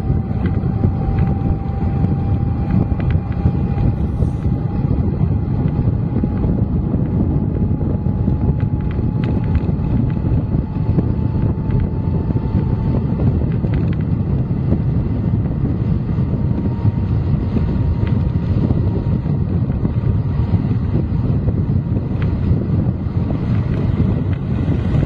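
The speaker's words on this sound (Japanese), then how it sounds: "風が怖い" Strong wind buffets the microphone in a continuous loud roar along an open road, steady throughout with a faint engine hum underneath and no talk.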